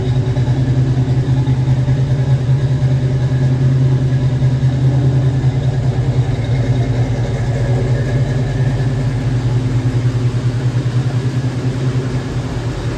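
A 1968 Chevrolet C10 pickup engine idles steadily with a deep, even rumble throughout, close by, with side-exit exhaust and no voices.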